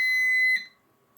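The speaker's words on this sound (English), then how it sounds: "that was my timer." A kitchen timer set while making Parmesan cheese goes off with a single sustained electronic beep that stops abruptly, leaving near silence.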